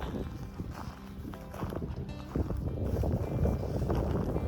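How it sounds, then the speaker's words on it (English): Steady wind blows outdoors along a roadside walk, a low rumbling buffet across the microphone that grows stronger partway through, with faint scuffing footsteps underneath. "The wind came back, but luckily it's a tailwind."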